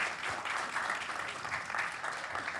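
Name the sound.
applause for the panel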